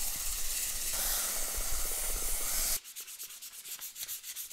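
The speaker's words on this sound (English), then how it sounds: "I'm gonna do some sanding before I drill into the top" A vase turned from an English walnut limb is sanded, making a steady close rubbing hiss that shifts partway through into quieter, rhythmic back-and-forth strokes.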